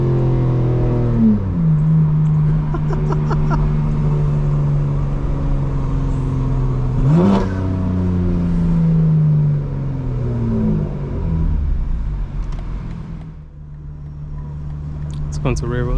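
A 900 hp 2025 BMW M4 Competition xDrive roars through launch-control acceleration, its engine note climbing through several gears with sharp shift breaks, loud and close from inside the cabin, then easing off near the end.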